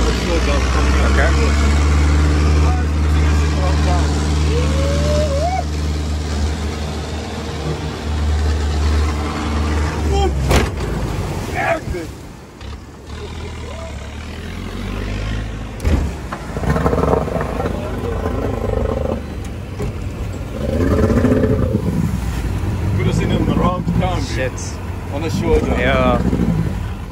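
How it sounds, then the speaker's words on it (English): A Yamaha outboard motor on a Sea Cat 510 boat in Durban catches and settles into a steady, low, throbbing idle close by, with people talking loudly over and after the engine noise. "Started up. See, that's why you got to pre-warm your motor."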